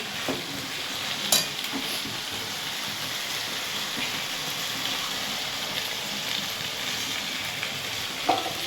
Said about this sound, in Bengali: সব তরকারি কষাচ্ছে